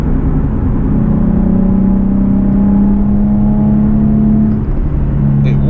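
Steady engine drone and road rumble from a Nissan 370Z being driven, a sustained low hum that holds loud and close throughout with a brief dip near the end.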